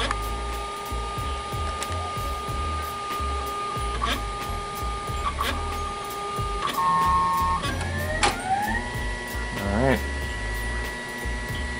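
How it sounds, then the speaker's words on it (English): A da Vinci 2.0 3D printer starts a print job, its stepper motors whirring in steady tones and rising sweeps over a constant fan hum, with small clicks and shifts in pitch as the head moves. "Looks like it's starting to print."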